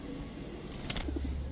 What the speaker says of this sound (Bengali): এখন এক জোড়া চুয়াচন্দন কবুতর দেখাবো